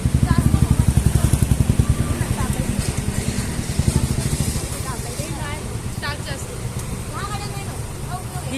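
A rented scooter engine putters steadily while riding near Malvan, its throbbing pulse close and fairly loud under wind noise, with people chatting over it.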